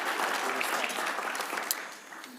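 Audience members at a state Committee on Agriculture, Veterans, Broadband and Rural Development hearing clap briefly in a room, a dense patter of many hands that fades at the end.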